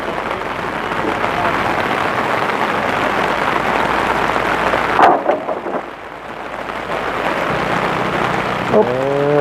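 Heavy rain pours hard during a thunderstorm, a dense steady roar that suddenly drops away near the middle, with a few faint vocal sounds and brief tonal bits near the end.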